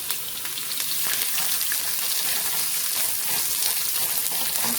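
Onions sautéing in a pan for a stromboli, a steady bright sizzle and crackle of frying that holds evenly throughout, fairly close with no talk.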